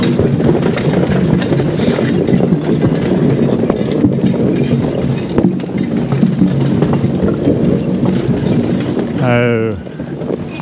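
Draft horse hooves clip-clop steadily on a forest floor during a woods logging job, mixed with outdoor noise and a brief chain or harness jingle near the end.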